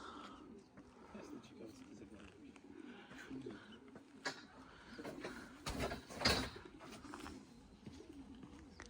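Soft cooing of racing pigeons in an outdoor setting, with rustling and scattered noises; a voice talks intermittently in Polish over the birds.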